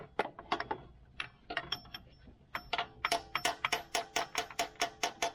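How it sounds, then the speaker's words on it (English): A tool taps a snug part off a Honda Odyssey alternator in a run of light, sharp metallic taps, sparse at first and then coming quickly in a steady rhythm, close and clear with no talking. "And you can hear I'm not wailing on it. It's just a little tap."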